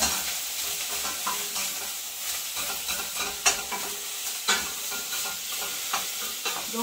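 Onions sizzle steadily in a hot pan while a utensil stirs and scrapes them, with a few sharper knocks, as a tartiflette is prepared; close, continuous frying hiss with no talk.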